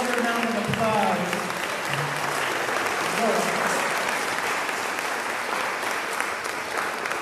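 Steady, full applause from a music festival audience after a vocal performance, dense and continuous throughout, with a few voices briefly audible near the start.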